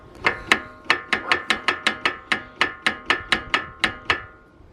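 Metallic clunks from a car's gearbox or mount, heard with the engine in fourth gear. About fifteen sharp, loud knocks repeat in a fairly steady rhythm, close by, with no talking over them.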